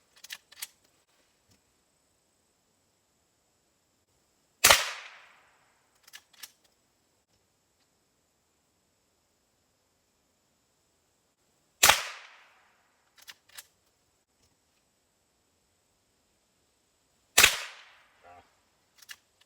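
A rifle fitted with a 3-9x40 scope fires three sharp shots at outdoor targets during a field test, spaced several seconds apart. Each crack trails off in a short echo, with a few small mechanical clicks between shots.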